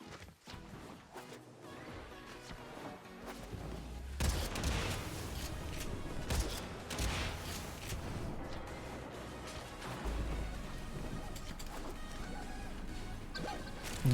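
The Zenith weapon in Warframe fires in a sustained, dense barrage, its heavy impacts and crashes layered over a busy battle din for more than ten seconds after a quieter opening.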